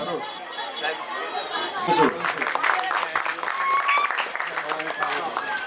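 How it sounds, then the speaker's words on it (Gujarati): A crowd at a Ganesh aarti in Talod applauds to welcome MLA Rameshbhai Barot, with clapping swelling from scattered chatter into a sustained round while voices continue underneath. "જોરદાર તાળીઓથી વધાવીશું"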